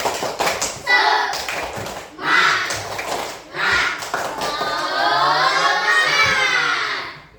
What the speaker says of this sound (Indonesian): Wah, tepuk semangat. Tepuk semangat